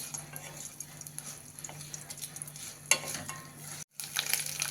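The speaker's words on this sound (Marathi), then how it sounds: "त्याच्यात टाकू ओल्या खोबऱ्याचे आपण काप केलेत, त्याचे यामध्ये टाकून देऊ. छान सगळं परतून घ्यायचं." Sliced fresh coconut being stir-fried in a pan for an amti masala, a steady close sizzle with scraping stirs and a brief utensil clink, continuous without talk.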